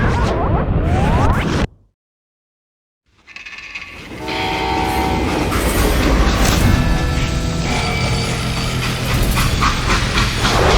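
A train rumbles loudly in the Western shooter Call of Juarez: Gunslinger, with a horn-like tonal blast. A sudden silent gap of over a second breaks the sound before the heavy rolling rail noise returns and carries on steadily.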